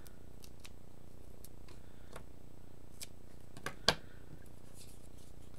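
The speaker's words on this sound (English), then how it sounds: "I'll just grab my scissors and cut a little piece off here" Scissors snip through a small piece of foam tape in a quiet room, with a few light ticks and rustles leading to one sharp, close cut.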